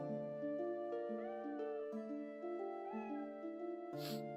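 Cat meows in the Shadow Madness video game rise and bend over a layered run of stepped game tones, faint and repeated, without any talking.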